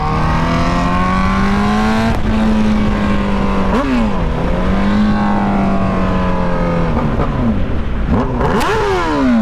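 Honda CBR sport motorcycle engine while riding, a loud steady roar close up with the revs climbing and dropping through gear changes the whole way.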